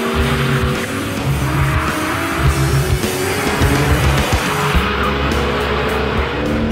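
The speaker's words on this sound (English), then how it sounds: "The power delivery is lovely, very free in how it revs, linked in with the noise it makes" A new Porsche 911 engine revs hard while driving, rising and falling in sustained loud pulls with clear gear-change breaks, up close and with no talk over it.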